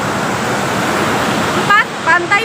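Ocean surf at Alas Purwo beach, a world-class surfing spot, roaring as a steady loud wash of breaking waves, with brief bird-like chirps near the end.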